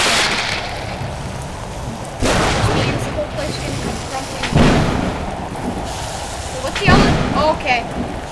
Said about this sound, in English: Acid storm and thunder again.